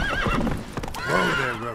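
Roach the horse in The Witcher 3 lets out a loud, close whinny with wavering pitch, broken by a brief snort and followed by a second rising neigh.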